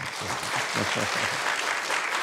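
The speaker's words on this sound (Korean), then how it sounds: "우리 박수 한번 부탁드리죠" Church congregation applauding a choir during an autumn revival service, a steady wash of many hands clapping at close range, with a few voices murmuring underneath.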